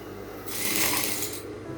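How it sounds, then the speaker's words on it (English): A sewing machine stitching along the curves of a blouse, a soft mechanical whir that swells after a brief pause and runs steadily for about a second, fairly quiet with no talking. "We are going to sew into it."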